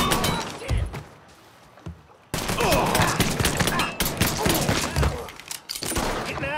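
Heavy gunfire in the video game Mafia III: dense bursts of shots and impacts, a brief quieter lull, then loud continuous firing with voices shouting over the battle.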